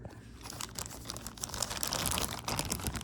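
Near and faint, a plastic bag holding a new motorcycle valve cover gasket for a ZX6R crinkles and rustles steadily as it is handled, with no talk over it.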